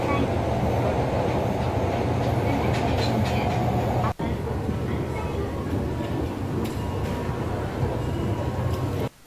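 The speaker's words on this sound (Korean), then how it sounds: "그리고 지하철을 타고 텐진역으로 나가 텐진 지하상가를 잠시 구경하였죠." A subway train in Fukuoka rumbles steadily from inside the carriage, a constant loud roar of wheels and motors with faint voices mixed underneath.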